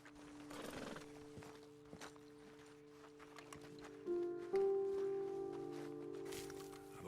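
Horses in the Red Dead Redemption 2 video game, with a sustained whinny and snorting over soft hoof clops and ambient game sound, growing louder toward the end; no one speaks.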